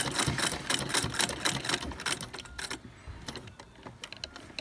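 A sewing machine stitches a fabric bag, running in rapid close rhythmic bursts that slow and grow quieter near the end.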